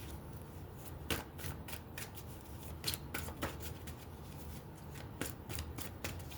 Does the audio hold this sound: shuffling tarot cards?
yes